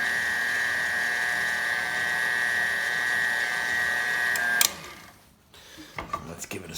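An electric stand mixer runs steadily at a raised speed on a chocolate ricotta cake batter, a high whirring whine that holds for several seconds and then cuts off abruptly.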